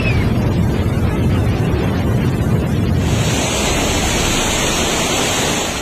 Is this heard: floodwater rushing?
yes